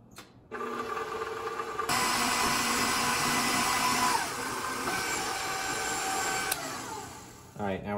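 An electric mixer beats cookie dough in a bowl, its motor whirring loudly and steadily, stepping up in pitch as the speed changes, then cutting off near the end.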